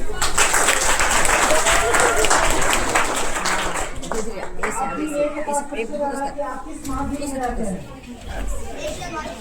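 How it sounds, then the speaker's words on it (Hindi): Students clapping during a quiz competition at a government school in Bihar, brisk clapping for about four seconds, then fading into chatter and children's voices talking over one another. "बिल्कुल सही जवाब है, ताली चाहिए।"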